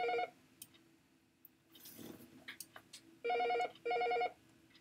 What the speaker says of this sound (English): Sorry, that's my phone ringing in the background.